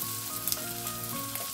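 Garlic, onion, bacon and sausage frying together in a pan for a low-carb farofa, giving a dense, continuous close sizzle with light crackles.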